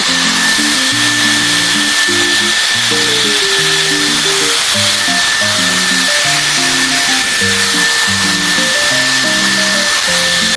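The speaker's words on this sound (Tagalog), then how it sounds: "i-dry ko na yung hair ko. So, i-dry muna natin from roots to end." A Dyson Airstrait hair dryer blows hair dry with a loud, constant rushing whoosh and a thin high whine, running unbroken under background music.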